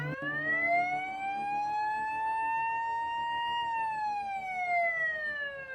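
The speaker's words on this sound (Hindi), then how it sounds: "तभी फायर ब्रिगेड का हॉर्न कानों में बजा।" A loud wailing fire engine siren sweeps slowly up and then down in pitch, sustained and close, with no voices.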